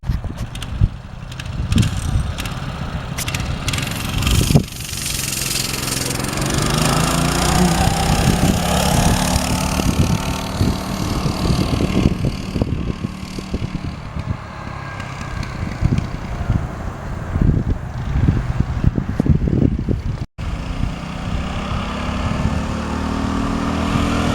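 A small Predator engine on a mini bike buzzes steadily, revving up and down as it rides along, close and loud throughout with a brief dropout near the end.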